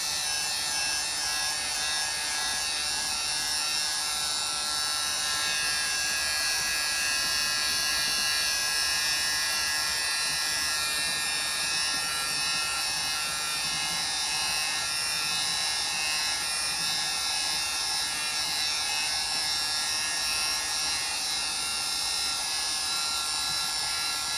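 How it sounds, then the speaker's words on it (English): A failing heat gun blows hot air over paint on a hand-painted tumbler, giving a steady, harsh buzzing whine with a rough, rattling edge that runs unbroken and close throughout. "I'm going to use my heat gun to help thin this out, just to get it to spread a little more easily."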